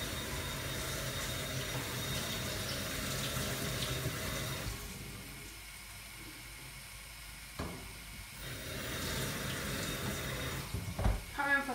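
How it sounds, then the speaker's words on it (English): Cold tap water runs steadily into a dish to cover rice noodles for pad thai, a soft continuous hiss and splash that thins out midway before picking up again, with a few small clinks near the end. "I'm going to cover them with cold water."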